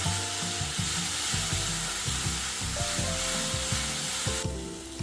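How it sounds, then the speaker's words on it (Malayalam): Banana filling with jaggery syrup is stirred in a pan as it cooks down, giving a steady sizzle with repeated scraping strokes, close and continuous, with no talking. "ഇനി നന്നായിട്ട് നമുക്ക് ഇളക്കി ഈ ശർക്കരപ്പാനിയൊക്കെ വറ്റി വരുന്ന വരെ നന്നായിട്ട് ഇളക്കാം"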